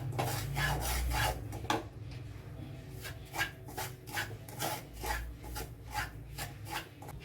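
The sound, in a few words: semolina dry-roasted and stirred in pan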